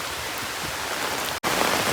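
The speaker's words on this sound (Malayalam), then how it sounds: "ഒരു അമർച്ചില്ലാത്ത മഴയിൽ നല്ല രീതിയിൽ മഴ ഇവിടെ പെയ്യുന്നുണ്ട്" Heavy, wind-driven rain pours down on a farm, a steady, dense hiss that fills the space evenly, broken only by a split-second dropout near the end.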